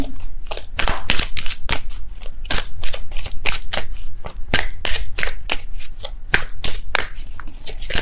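Tarot cards being shuffled and drawn from a deck by hand, a close, loud run of rapid riffling snaps and slaps in an uneven steady rhythm throughout.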